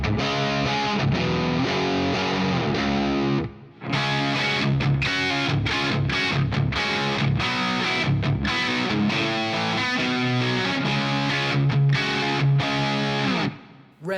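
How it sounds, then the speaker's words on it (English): Heavily distorted electric guitar through a Soldano Astro 20 amp playing thick, saturated high-gain chords and riffs, loud and sustained, with a brief drop near the start before it kicks back in. "Red is pure Soldano DNA, those big, round, high gain tones."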